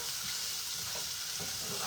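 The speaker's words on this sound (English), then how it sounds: "we are pan frying these or sauteing these." Pork medallions pan-fry in oil or butter over turned-down heat, giving a steady, close crackling sizzle with no break.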